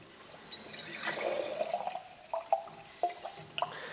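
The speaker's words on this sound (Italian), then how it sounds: "lo andremo a tagliare con l'acqua" Water is poured into homemade gin to dilute it, giving a soft, intermittent trickle with scattered drips and small splashes, faint and close.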